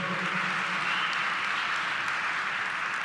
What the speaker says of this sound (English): Yes, you could applaud that, definitely.